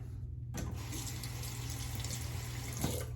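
After a quiet start, a sink tap turns on and water runs down the drain while a razor is rinsed after shaving, a steady close rushing flow that ends with a faint clunk.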